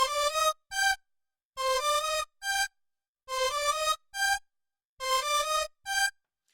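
A short synthesized melody of plucked tones, looped twice in an even quarter-note rhythm with brief gaps between notes and clean silence around them.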